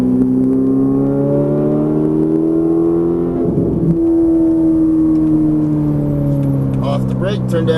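A Ferrari 458 Italia engine drones loud and close with a steady multi-tone note, dips briefly, then rises again under throttle as the car accelerates. A voice talks over part of it.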